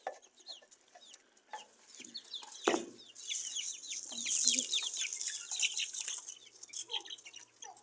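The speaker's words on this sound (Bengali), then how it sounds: "কত মুরগি দেখতে পাচ্ছ না?" Chickens clucking in a yard, with several short bird calls scattered throughout and a brief louder burst near the middle; a voice is heard intermittently.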